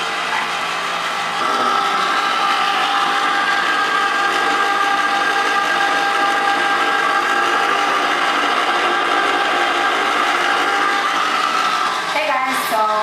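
A homemade frozen-yogurt batch churns in an ice cream maker, giving a loud, steady motor whir that runs unbroken for most of the stretch, with a brief clatter near the end.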